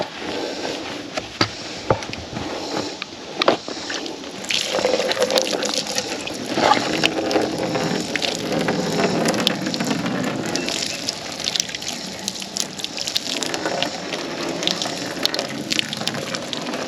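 Water rinsing over a 1967 Chevy rescued from a junkyard: a steady, loud gushing spray, like a hose, runs continuously throughout with no talking.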